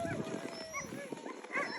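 Iditarod sled dogs whine and yip in a brief, faint chorus, high wavering whimpers overlapping with soft background chatter from people nearby.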